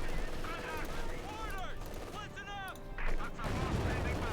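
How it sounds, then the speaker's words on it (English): Gunfire and artillery from a World War II real-time strategy game, Wehrmacht versus US Forces, play as a distant rumble with scattered shots under near-constant commentary from casters. "My God, look, they're shooting at us."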